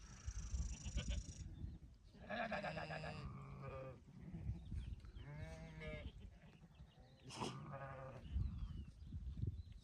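Several sheep bleat one after another, some overlapping, over a continuous low rumble of background noise.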